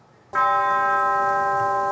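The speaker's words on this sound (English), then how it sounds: "The toll of church bells for Congressman John Lewis." A single church bell strikes loudly and rings on with a steady, sustained tone, clear and close, with no other sounds.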